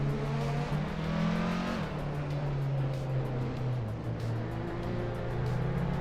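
Race car engines in a video game drone steadily at the retro Gilles Villeneuve circuit, a loud continuous roar with shifting pitch as cars, including a classic 1999 Opel Vectra, run together.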